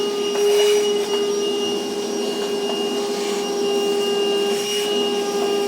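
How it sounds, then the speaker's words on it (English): A shop vacuum sucks up metal shavings in the bed of a 2021 Ford F-series pickup, giving a steady loud whine with a few faint rattles and clicks as debris goes up the hose. "we're going to get all our shavings vacuumed up."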